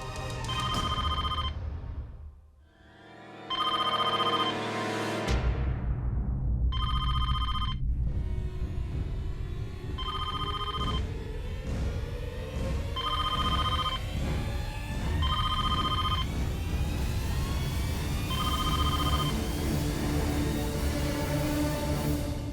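A telephone rings in repeated bursts, clear and fairly loud, each ring a short electronic trill separated by brief pauses, against a steady background of music and room noise.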